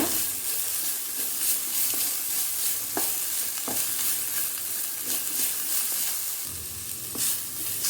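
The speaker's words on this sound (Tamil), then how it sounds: "நல்லா பொன்னிறம் ஆகிற வரைக்கும் வதக்கிக்கோங்க." Sliced onions with a little salt sizzle and hiss steadily in a hot pan while being stirred for Sunfeast Yippee masala noodles, with occasional scraping clicks over a constant frying crackle.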